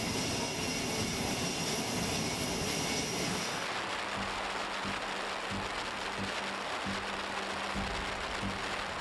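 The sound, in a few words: aircraft and helicopter propellers on USS Nimitz, Arabian Sea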